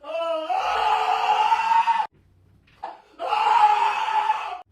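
A man screams loudly during a painful massage, two long harsh bursts of yelling separated by a short pause, close and strained.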